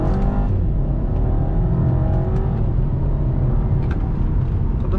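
Audi A3 Sportback with a 2.0 turbo engine under hard acceleration, a steady loud in-cabin engine rumble with rising harmonic tones throughout, no talking.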